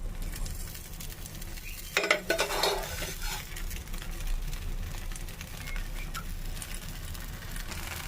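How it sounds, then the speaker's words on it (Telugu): A wheat flour dosa sizzles and fries in oil on a pan, a steady soft crackle close by with a brief clatter of a utensil against the pan near the start. "అట్టు చుట్టూ పైన ఆయిల్ వేసుకొని మంచిగా కాలినివ్వాలి"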